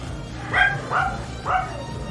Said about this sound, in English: I'm sure Henry, that dog you can hear barking